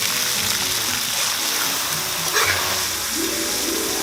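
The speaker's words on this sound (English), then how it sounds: "These get tossed in hot oil until they're crispy." Bugs tossed in hot oil until crispy, a continuous bright hiss of frying with a brief louder splash of bubbling midway, no talk.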